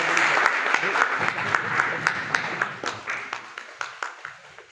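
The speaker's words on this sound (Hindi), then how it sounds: "तो एक बार उनके लिए तालियां हो जाएं" An audience at a cow-protection awareness event at Jiwaji University in Gwalior applauds, beginning as a full wash of clapping and thinning to scattered individual claps as it dies away.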